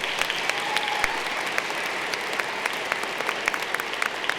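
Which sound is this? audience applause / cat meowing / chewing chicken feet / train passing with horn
audience applause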